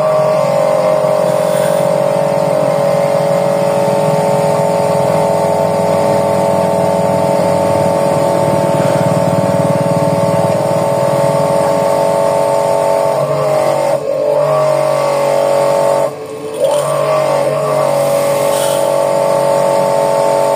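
An electric jet cleaner pressure washer, just repaired after it would not start or push out water, runs with a steady, loud motor hum that holds unbroken for the whole stretch, with a brief dip near the end.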